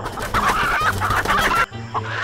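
A rooster in a fighting-rooster video game clucks loudly and repeatedly in a close, rapid series of throaty calls, with a brief pause before a final softer cluck.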